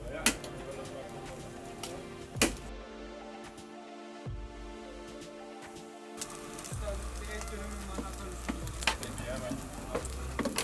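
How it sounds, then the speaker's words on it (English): Chicken doner kebab frying and sizzling on a hot surface at a busy Turkish food stall, a steady close hiss with scraping and clattering from cutting and serving, a short dip in the middle, and faint chatter in the background. "Doner kebab is fried, cut and served."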